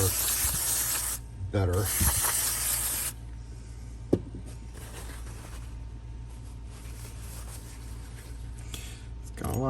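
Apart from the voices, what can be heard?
spraying lubricant onto a rim lock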